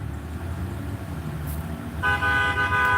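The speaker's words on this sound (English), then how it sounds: "How they keep fucking honking?" Car horns honking in street traffic just after a light changes, a steady road rumble underneath and a loud sustained horn blast breaking in halfway through and holding to the end.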